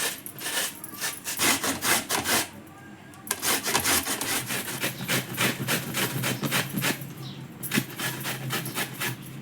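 Peeled mangoes are grated on a fine-toothed hand grater, making steady rhythmic rasping strokes up close, with repeated scraping bursts and a brief pause partway through.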